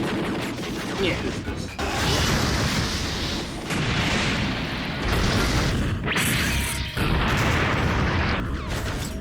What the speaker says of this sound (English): The stock explosion.